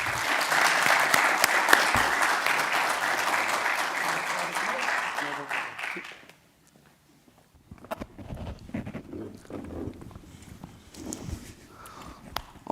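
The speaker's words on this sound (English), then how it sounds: "please give a round of applause to Nikolas" A conference audience at a political summit applauds a Brazilian politician with dense, sustained clapping for about six seconds before it stops abruptly, followed by quieter shuffling, footsteps and handling noises.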